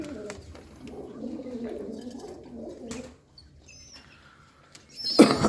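Domestic pigeons, including a black-necked breeding pair and their chick, coo softly in low, rolling phrases nearby. After a quiet pause, a short burst of rustling and fluttering breaks in at the end.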